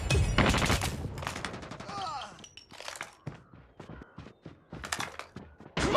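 Gunfire in a tactical shooter video game, with quick bursts of automatic shots and single cracks scattered across the clip, mixed with game effects and a voice speaking briefly.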